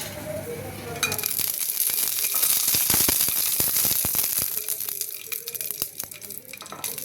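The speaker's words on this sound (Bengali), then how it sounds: "মরিচটা একটু ভাজা ভাজা হলে নামিয়ে ফেলবো" Chili peppers frying in oil in a frying pan: a loud, bright sizzle bursts in after a second, with dense crackling spatter that slowly eases but keeps popping close up.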